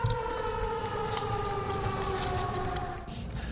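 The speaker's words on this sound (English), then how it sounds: "The siren is designed to give students, staff, and neighbors an alert in case there's an emergency on campus." A loud emergency siren wails steadily during a campus test at the University of New Mexico, its layered tones sustained without pause throughout, with a slight dip near the end.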